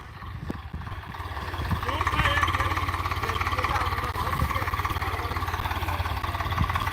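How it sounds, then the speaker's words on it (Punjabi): A Swaraj 855 tractor's diesel engine chugs steadily with a low rumbling throb, building slightly then holding constant, fairly close, with faint voices in the background. "ਟਰੈਕਟਰ ਦਾ ਜ਼ੋਰ ਪਰਖਦੇ ਹੋਏ"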